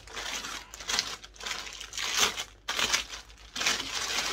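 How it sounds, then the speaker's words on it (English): Plastic packaging from a stamped cross stitch kit crinkles and crushes close by in repeated bursts, with brief pauses between handlings and no speech. "Sorry for the crinkling"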